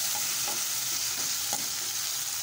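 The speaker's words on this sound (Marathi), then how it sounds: "टोमॅटो परतून घेऊया।" Chopped tomato sautés with softened onion in hot oil, a steady close sizzle with a few soft stirring scrapes, no voices.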